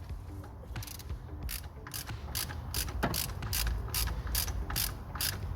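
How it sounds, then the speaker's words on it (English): A ratchet with a 24mm socket on an extension loosens the reverse light switch on a Kia Sportage, turning anti-clockwise in a steady series of quick clicking strokes close up, with no talking. "You need a 24mm socket ratchet extension, just like that, and anti-clockwise."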